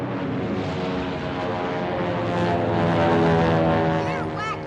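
Propeller-driven P-36 fighter planes pass overhead, a loud, steady droning roar that swells toward the middle and then eases slightly, with no one speaking.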